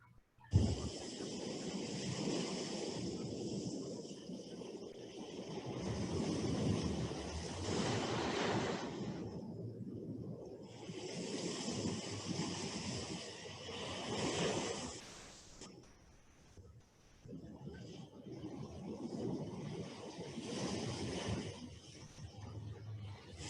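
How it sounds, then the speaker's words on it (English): Ocean waves roll in steady washes with music underneath, setting a calm backdrop for a guided relaxation exercise; the surges swell and fade at intervals, broad and continuous, with no voices. "We're going to hear some music in the background, some waves, some sounds of an ocean."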